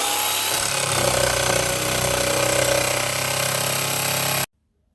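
A power saw cuts a spacer ring around a toilet flange, a loud, steady buzzing whine running continuously for about four seconds before stopping abruptly.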